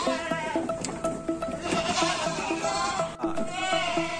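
Several goats bleat repeatedly in a farm pen in Banda Aceh, loud and close, with overlapping calls one after another and no talk.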